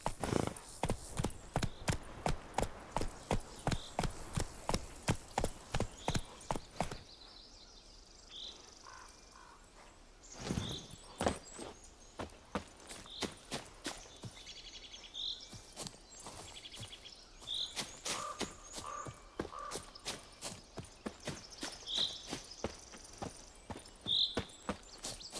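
Horse hooves walking in the video game The Witcher 3: crisp, rhythmic clip-clops, fast and regular at first, then slower and more scattered after a brief pause, with faint bird calls around.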